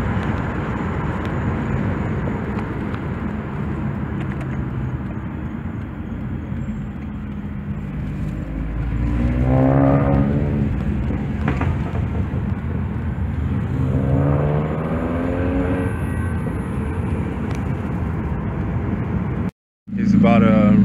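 A Mini Cooper S with its muffler deleted revs in two rising surges, a loud raspy engine roar climbing and falling back to idle, with people talking and reacting over it and a sharp cut near the end.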